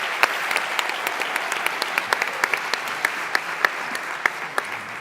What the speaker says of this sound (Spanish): Y las familias, un aplauso para ellas.